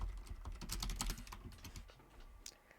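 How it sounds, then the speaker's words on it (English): Rapid keystrokes on a computer keyboard form a quick, close burst of clicks that thins out toward the end, with no voices over them. "let's type in a string to reverse"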